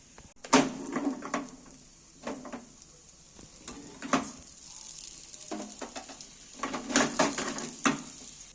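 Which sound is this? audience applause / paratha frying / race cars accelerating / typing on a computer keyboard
paratha frying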